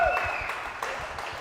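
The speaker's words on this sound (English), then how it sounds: "Let's give Bill a round of applause." A crowd applauds a car giveaway prize winner, dense steady clapping over a short stretch, loud and close.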